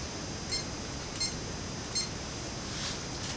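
A kitchen timer gives three short, evenly spaced beeps while being reset, faint against a steady hum, with a soft rustle near the end.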